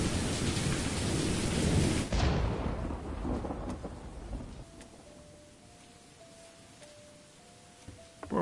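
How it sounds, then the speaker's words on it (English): Thunder rolls loudly through a Roblox horror video game amid heavy rain, a long rumbling crash that fades into steady rainfall, with faint tonal game music notes appearing near the end. "Is that thunder?"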